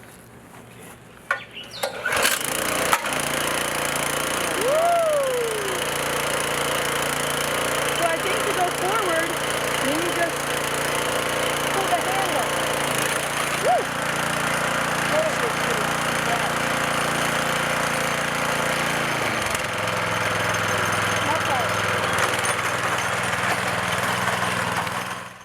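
A small gas garden tiller engine fires up after a brief rattle and then runs loud and steady while churning soil, with voices talking over the continuous engine drone.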